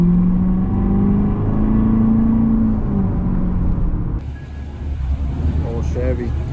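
An old Chevy engine revs in a driving video game, a loud rising and falling whine under a voice, then cuts to a rougher, lower engine roar with some chatter.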